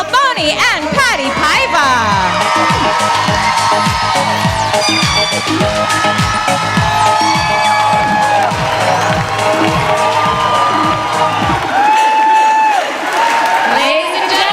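An audience at a local celebrity dance show gives the season's cast a loud, sustained round of applause with cheers and whoops. Music plays throughout, with a rhythmic beat and melodic lines under the crowd.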